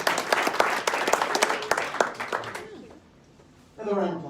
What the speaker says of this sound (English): Another round of applause for our sponsors today.